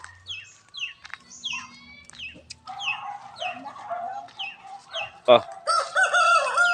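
Chickens clucking and a rooster crowing in a farm coop, several birds calling close by in overlapping bursts, a loud crow rising near the end, with a brief voice heard once.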